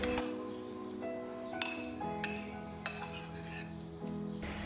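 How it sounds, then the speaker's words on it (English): Tofu cubes tossed in sauce in a bowl, with a few distinct light clinks and taps of utensil on dish spaced irregularly over a faint background hum. "Throw these cubes into the sauce and toss them around until they're evenly coated."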